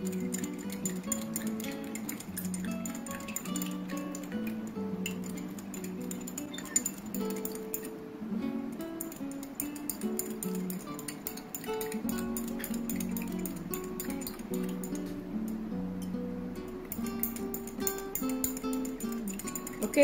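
Spoon stirring sugar into water in a glass, repeated light clinks and ticks of metal against glass in a steady rhythm for about twenty seconds, close and fairly quiet, with no talk.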